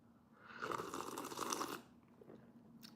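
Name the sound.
loud slurp of a drink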